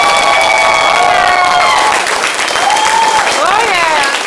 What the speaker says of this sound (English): So give Mr. Dan a big round of applause